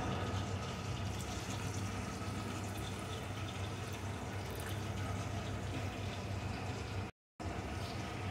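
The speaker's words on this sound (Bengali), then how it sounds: "এখন আমি এর ভিতরে দিয়ে দেব উষ্ণ গরম জল।" Warm water pours steadily over cut gathi kochu (taro) pieces in a bowl, a dense continuous rush close by that breaks off for a split second near the end.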